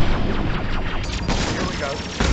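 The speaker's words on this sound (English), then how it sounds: "Firing a high-impact shot. Taking heavy fire." Heavy gunfire in the Mass Effect 2 video game, a loud, dense barrage of overlapping shots and impacts rattling continuously for a couple of seconds.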